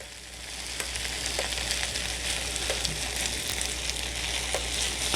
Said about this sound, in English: you hear that sound? That means that the waffle iron was preheated enough.